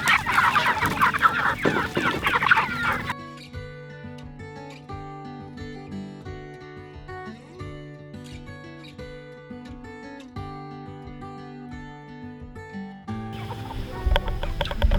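Chickens cluck and squawk at the start and again at the end, with melodic background music filling the long stretch between.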